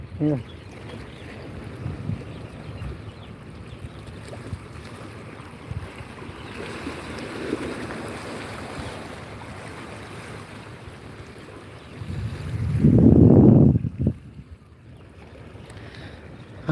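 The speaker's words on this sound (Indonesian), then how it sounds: "Nah itu kapalnya udah mulai bergerak, kapal lambatnya itu" A slow ferry pulls away at Ulee Lheue harbour in Banda Aceh, with a low engine rumble, water wash and wind that swell into a louder surge near the end, while people talk nearby.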